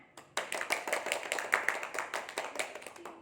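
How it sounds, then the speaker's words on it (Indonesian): An audience at a Christmas celebration claps to welcome guest stars, a lively burst of many hands that starts abruptly, stays close and loud, then thins toward the end. "Berikan tepuk tangan."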